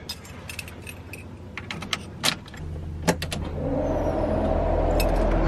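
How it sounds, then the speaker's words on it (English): An Aeromotive 340lph electric fuel pump primes with a low, steady whirring hum that starts partway through and builds, preceded by scattered clicks and jangling keys nearby. "So now we are going to give some power to the pump and listen for it to prime."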